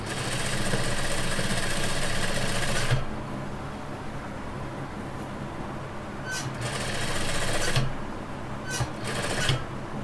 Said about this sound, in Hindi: गुलाई में थोड़ा सा उठा के मशीन को सेट करके फिर हमें सिलाई लगानी है